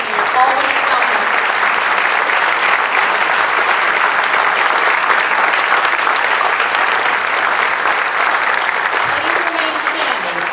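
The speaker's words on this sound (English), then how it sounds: "will you please stand for a moment for a round of applause?" Sustained, loud applause from a ceremony audience at a veterans recognition event in La Quinta, honoring prior honorees; a dense, even wash of clapping that holds steady throughout.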